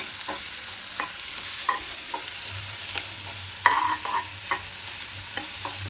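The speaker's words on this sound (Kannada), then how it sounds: "ಸ್ಟೌನ ಮೀಡಿಯಮ್ ಫ್ಲೇಮಲ್ಲಿ ಇಟ್ಕೊಂಡು ಚೆನ್ನಾಗಿ ಬ್ರೌನ್ ಕಲರ್ ಬರೋವರೆಗೂ ಇದನ್ನು ಚೆನ್ನಾಗಿ ತಿಗಿಸ್ಕೋಬೇಕು" Prawns and dry fish stir-fried in a pan on medium flame, a steady soft sizzle broken by about a dozen short scraping strokes of the spatula, with no talk.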